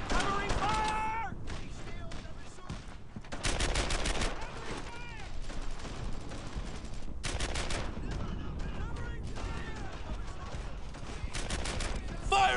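Bursts of rifle and machine-gun fire crackle through a World War II shooter game, Brothers In Arms: Earned In Blood, in repeated volleys separated by brief lulls, while shouted squad voices are heard among the shots.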